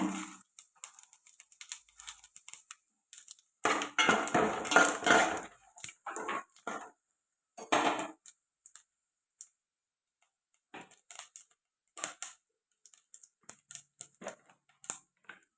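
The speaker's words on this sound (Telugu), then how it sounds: "ఎండుమిర్చి ఇలా ఫ్రై అవుతుంది కదండి" Dried red chillies fry in a hot pan for gongura chutney, giving sparse, sharp crackles and pops with a brief burst of sizzling and scattered clicks between quiet gaps.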